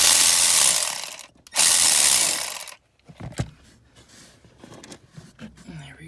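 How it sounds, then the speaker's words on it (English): An electric ratchet spins loose the swaybar bolts on an R56 Mini Cooper S, in two loud, steady whirring bursts of about a second each with a short pause between, followed by clinks and someone speaking. "Switch to my electric ratchet,"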